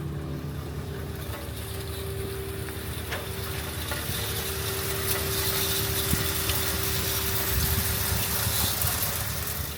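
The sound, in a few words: boat wash-down sprayer pumping water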